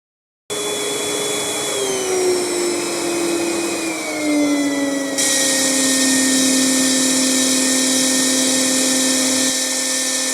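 A workshop or construction-site vacuum cleaner starts and runs, its loud, steady motor whine sliding down in pitch before settling into a constant roar, with a hissing airflow change partway through and no voices.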